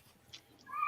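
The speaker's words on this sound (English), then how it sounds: "I've never heard her meow before." A house cat meows outside a door, a short rising call near the end of the moment, moderately loud over faint room noise.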